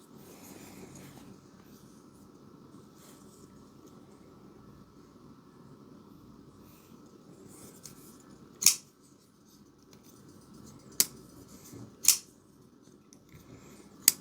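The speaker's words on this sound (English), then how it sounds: "Cut our tails off. I just kind of want to see how it would look if we just cut them in half." Scissors snip through the tails of a purple paracord snake-knot lanyard: four crisp, close cuts in the second half, spaced a second or two apart over a low steady background hum.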